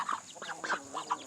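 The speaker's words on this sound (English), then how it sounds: "See the little ducks?" Ducks quack in a free-range barnyard at feeding time, several short nasal calls overlapping in quick bursts, fairly close and clear with no talking.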